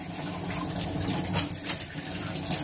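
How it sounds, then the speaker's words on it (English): Water runs steadily over a freshly cleaned, scaled and gutted fish during a rinse, a continuous splashing gush at close range with no talk over it. "So let's rinse it again."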